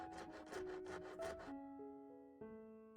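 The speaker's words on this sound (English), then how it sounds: "I cut them off of the wire." Metal wire is cut into short rivet lengths for cloisonné enameling, making about five quick rasping, sawing strokes over roughly a second and a half, then stopping as steady tones take over; faint and close, with no voices.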